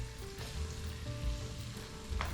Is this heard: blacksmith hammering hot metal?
no